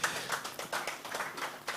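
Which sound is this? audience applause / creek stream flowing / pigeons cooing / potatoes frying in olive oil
audience applause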